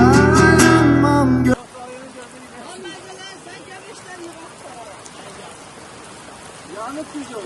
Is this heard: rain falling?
yes